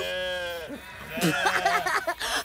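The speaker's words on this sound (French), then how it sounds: "Allez, les moutons, poussez-vous." Sheep bleat in wavering cries at close range, with a person talking over them partway through.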